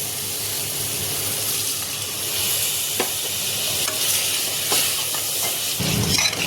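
Water hits hot, well-fried masala for rajma, raising a steady loud steaming hiss and sizzle close up, with a few spoon scrapes and clatters as it is stirred.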